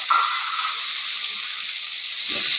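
Small onions, curry leaves, big onion and green chillies fry for a chickpea gravy, giving a steady, loud, close hiss of sizzling oil with a brief scrape of stirring near the end.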